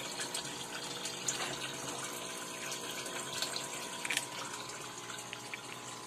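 Water pours steadily into an aquarium being refilled, a continuous trickling, splashing rush with a faint pump-like hum underneath and small irregular splashes throughout.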